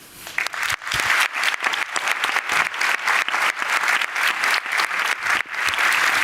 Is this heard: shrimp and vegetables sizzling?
no